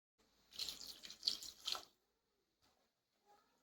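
A short burst of about two cups of water pouring and splashing into a cooking pot, lasting about a second and a half, followed by near silence with faint drips.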